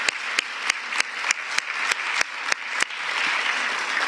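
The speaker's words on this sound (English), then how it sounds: "I'd like to ask you to give them a round of applause as well" An audience at an agricultural forum claps steadily, with loud single claps picked out near the microphone over a dense spread of applause that fades slightly toward the end.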